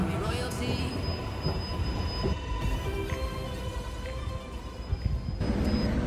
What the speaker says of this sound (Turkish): Katowice tren garındayız.